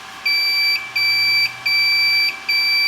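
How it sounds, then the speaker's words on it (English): An Epson F2100 printer beeps in four long, steady high-pitched tones with short gaps between them, signalling to close the cover, loud and close, with no voices. "That beeping noise is just saying that some time has passed and it wants you to close the cover"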